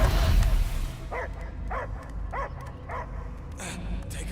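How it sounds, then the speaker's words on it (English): A dog barks in the Guardians of the Galaxy video game, with a steady series of five or six evenly spaced barks over a dense, rumbling game soundtrack. "I hear only barking."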